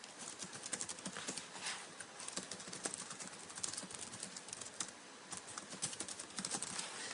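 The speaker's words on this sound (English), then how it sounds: "let's just type in here our 4 keyword phrase" Fingers type rapidly on a computer keyboard close by, a dense, continuous run of light key clicks with slight pauses, faint and with no voice over it.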